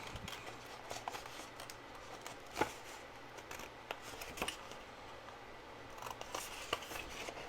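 Scissors snip through paper along a score line with faint, scattered clicks and small cuts, one sharper snip standing out, all quiet and close in a still room.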